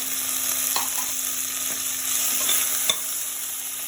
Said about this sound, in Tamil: கொஞ்சம் ஓரளவு வெங்காயம் தக்காளி வதங்கிச்சு